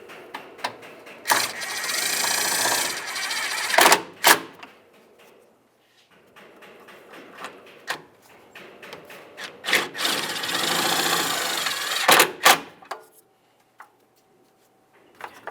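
A power tool snugs long 10mm headed bolts while a radiator is replaced on a 2005-2010 Dodge Dakota: two extended whirring, rattling bursts with sharp clicks and knocks between them, close and loud, with no talking.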